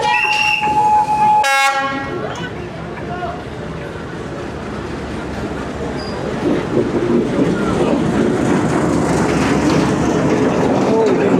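A train rolls slowly through Hanoi's narrow Train Street: a loud horn blast opens, then a long rumbling, clattering passage of wagons close by, growing louder, with voices of people around.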